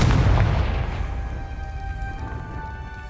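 A Confringo blasting spell in the Hogwarts Legacy video game goes off as a loud, deep boom at the start, then a rumbling tail fades over a few seconds, with no talking.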